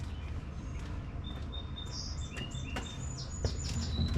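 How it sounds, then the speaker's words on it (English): A bird chirps outdoors beside an old car during fuel tank removal, scattered high tweets and short calls at moderate distance, with faint clunks of work in the background. "There's a real bird in the way."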